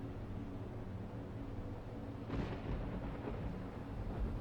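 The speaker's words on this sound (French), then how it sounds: "tandis que la tempête continue de rugir" A thunderstorm at sea: steady rain and wind hiss with a low rumble of thunder swelling midway, distant and moderately faint, with no voices.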